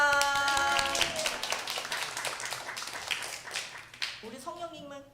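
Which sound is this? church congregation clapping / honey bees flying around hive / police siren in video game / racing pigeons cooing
church congregation clapping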